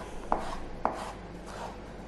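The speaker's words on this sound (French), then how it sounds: "On émince." Fresh herbs for a lentil salad are sliced coarsely with a kitchen knife: two sharp, close chops about half a second apart, then a softer third cut, over a quiet room.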